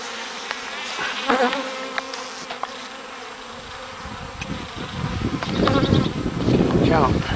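Honey bees buzz close by around a hive in a steady drone that swells louder toward the end, with a voice speaking briefly over it.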